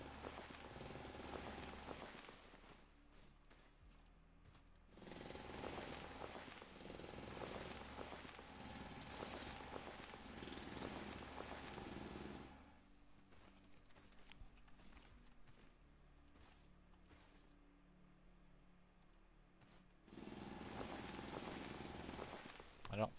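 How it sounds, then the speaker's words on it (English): Drilling downward in the factory-building video game Foundry, heard as a steady mechanical rumble that swells and fades in several bursts across the stretch, sitting in the background with no talk over it. "Let's just drill down."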